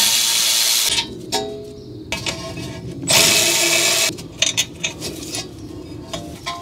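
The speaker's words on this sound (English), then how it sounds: "we need the same 14 millimeter socket here on these caliper bracket bolts" Metallic clatter and ratcheting bursts of a 14 mm socket wrench working the rear brake caliper bracket bolts on a Toyota Corolla iM (Scion iM) during a pad and rotor job, in several sharp bursts with short pauses.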